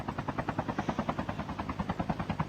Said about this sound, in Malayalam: എന്നെ വാങ്ങിക്കാൻ ഹെലികോപ്റ്റർ പറക്കാം, ഞാൻ പറന്നിറങ്ങും.